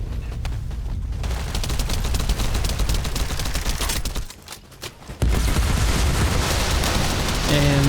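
Video game gunfire from The First Descendant: rapid, dense bursts of shots rattle almost continuously, pause briefly, then resume loud and sustained, with voices talking over the action.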